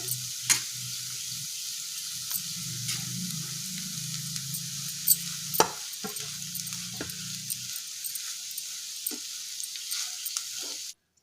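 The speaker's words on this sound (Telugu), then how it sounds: "కొబ్బరి తరుగు మనం ముందుగా బాయిల్ చేసుకున్నటువంటి రైస్ వేసుకొని మిక్స్ చేసుకోవాలి" Cabbage masala rice with grated coconut and boiled rice being stirred in a hot pan, a continuous close sizzle with scattered spoon scrapes and clicks, ending abruptly, no voices.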